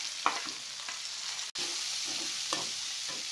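Boiled mutton fries in a pan with a continuous close sizzle and occasional stirring scrapes, broken by a brief dropout midway. No one speaks.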